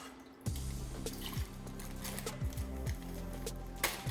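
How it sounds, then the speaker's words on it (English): Chicken brine pours and splashes steadily over chicken in bags, with gurgling, dripping sounds close by and no voices. "I'm just going to pour this over"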